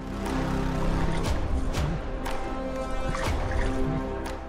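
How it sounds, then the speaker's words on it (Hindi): A priest splashing water with his palm at a temple pond to call a vegetarian crocodile, repeated splashes and sloshing against steady outdoor background noise. "पुजारी ने हथेली से पानी फेंकना शुरू किया।"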